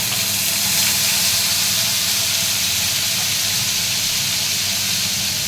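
Ginger and green chilli paste hitting hot oil in a pan, a continuous loud hissing sizzle that holds steady throughout.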